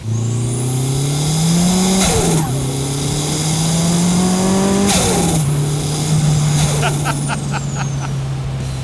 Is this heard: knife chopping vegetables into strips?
no